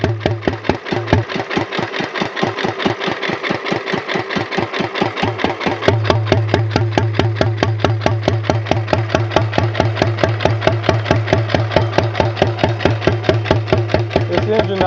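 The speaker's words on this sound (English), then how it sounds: "This engine I've got running on regular gasoline right now." A 1929 Economy XK 3.5 hp engine runs on regular gasoline, its loud, close exhaust beating in a fast, regular chuffing rhythm with a steady low hum underneath that firms up midway.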